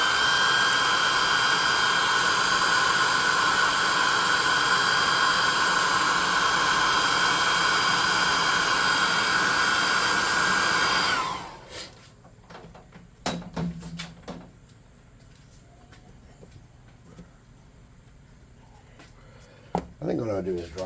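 A heat gun blows hot air onto a painted Grick miniature for a tabletop RPG, a loud, steady close-up whoosh for about eleven seconds. It then cuts off, leaving faint clicks and handling noises.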